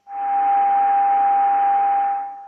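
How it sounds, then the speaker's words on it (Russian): A clean, steady sine tone from a 6Zh1P tube receiver, monitored through a transceiver, holds for about two seconds with a soft hiss around it, then fades out. "Можно сказать, что чистый синус при генерации."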